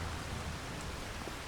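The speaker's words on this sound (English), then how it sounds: "Interesting, it's raining and nobody's out walking." Steady rain falls in the Farming Simulator 25 video game, a dense, even hiss of drops on surfaces that holds at the same loudness throughout with no voices over it.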